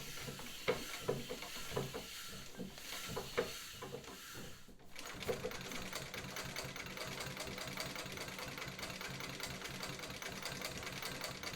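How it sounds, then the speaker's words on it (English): A 1905 Singer 15-30 treadle sewing machine stitches a dense row through many layers of fabric. Soft, rapid rhythmic clacking is heard close by, with a brief pause before it resumes in a steady, continuous run. "then I'll do a row of stitches on that section there that is very very dense with all those layers."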